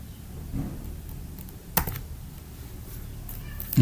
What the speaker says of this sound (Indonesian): Kita tekan enter saja.